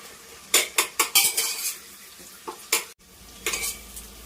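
Onions for mutton biryani fry in a pan, with a quiet sizzle beneath a series of sharp metal spoon scrapes and clanks against the pan that come in quick bursts, all close and with no talk.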